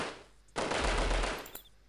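Sustained burst of automatic gunfire in the video game Delta Force, loud and dense, lasting about a second with a sharp crack near the end, no talk.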